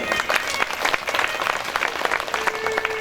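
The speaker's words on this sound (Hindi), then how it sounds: "बात समझ में आई हो तो समर्थन अवश्य ताली बजा कर।" Audience clapping steadily through a devotional Hindi religious discourse on the Maharas, dense and continuous applause filling the hall at moderate loudness with no talk over it.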